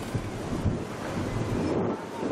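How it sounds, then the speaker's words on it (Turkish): A fierce lodos storm wind in Bursa, roaring and buffeting hard against the microphone in a loud, continuous gusty rush with no clear pauses. "Bu iki kadın da direğe güçlükle ulaştı ama şiddetli rüzgara direnmek hiç kolay olmadı."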